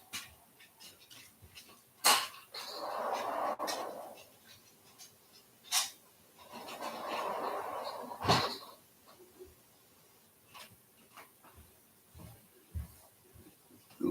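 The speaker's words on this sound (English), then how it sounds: "Goofy dogs." Dogs pant and whimper close by indoors, with two longer stretches of breathy huffing between sharp clicks and small whines, and no talking.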